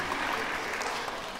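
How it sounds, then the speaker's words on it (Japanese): Audience applause at a concert in a hall, a short burst of dense, even clapping from a crowd that fills the brief moment on its own. "拍手してくださる方ありがとうございます"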